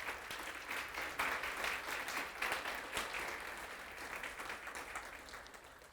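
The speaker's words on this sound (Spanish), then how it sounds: "Dale un aplauso al Señor porque están muy serios." A church congregation applauds steadily, a dense wash of many hands clapping at moderate distance that slowly eases toward the end.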